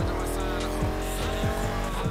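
Car tires skidding and hydroplaning on a slick road in the racing game Need for Speed Heat, with a steady engine drone and a few repeated squeal sweeps while a voice talks over it.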